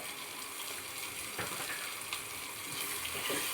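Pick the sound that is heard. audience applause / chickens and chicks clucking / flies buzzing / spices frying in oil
spices frying in oil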